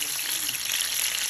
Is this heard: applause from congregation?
no